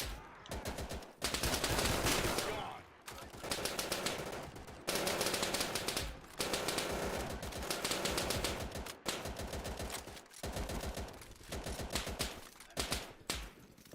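Rapid automatic gunfire in the Easy Red 2 war game, loud sustained bursts of machine-gun fire broken by short pauses, dense and close throughout.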